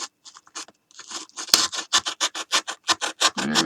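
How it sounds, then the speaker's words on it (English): Craft knife sawing through dried hot glue with a back-and-forth motion, a series of close, scratchy rasping strokes in a quickening rhythm. "You're kind of trying to saw through some of the hot glue that you had before."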